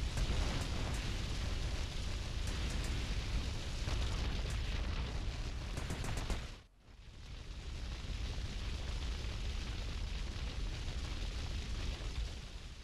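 An explosion in the video game GTA Vice City, a loud, sustained broadband roar that cuts out briefly midway, then surges back and rumbles on.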